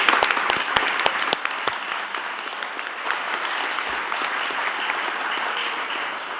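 An audience at the White House Recovery Month Summit breaks into applause, with a few sharp early claps quickly swelling into sustained, even clapping that carries on steadily.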